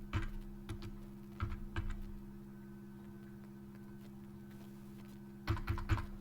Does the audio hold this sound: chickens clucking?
no